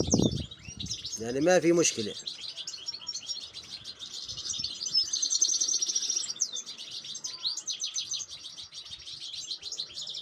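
A goldfinch and its chicks in a cage give high, rapid twittering chirps almost continuously, with a brief harsher burst early on and a man's short remark nearby.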